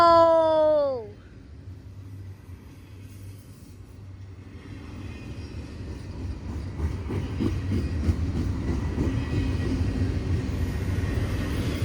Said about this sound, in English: Okay, this train is going slow.